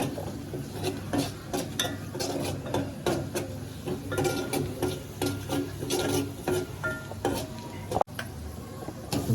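Fresh cashew curry with spices, chilli and turmeric stirred in a pan, a close scraping and clinking of a spoon against metal in uneven strokes over a light sizzle, no talking.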